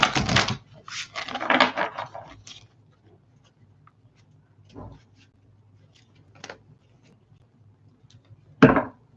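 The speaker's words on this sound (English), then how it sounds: "let's shuffle these cards here" Tarot cards being shuffled by hand: a few quick papery riffling bursts at the start, then sparse soft taps and card snaps separated by near silence, close to the microphone.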